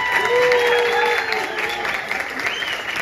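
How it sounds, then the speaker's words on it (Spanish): Applause from the audience at a world cueca dance championship competition night in Pamplona, a steady dense clapping that holds throughout at close range, with a few brief calls or voices woven into the crowd noise. "aplauso fuerte a las cuatro parejas que ya participaron."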